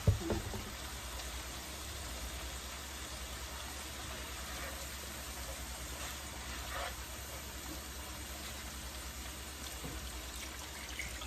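Spice paste for hilsa fish curry fries in a pan with a splash of water, a continuous soft bubbling hiss and sizzle that holds steady after a brief knock at the start.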